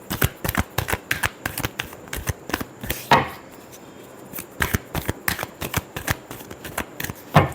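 Tarot cards being shuffled in quick bursts of sharp riffling flicks, close and crisp, with a brief pause in the middle before the shuffling resumes.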